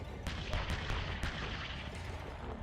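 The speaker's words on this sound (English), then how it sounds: "The Bushmaster cannon is unbelievable." A Bradley vehicle's Bushmaster cannon firing in combat, a rapid string of sharp reports over a dense, roaring rumble that stays loud throughout.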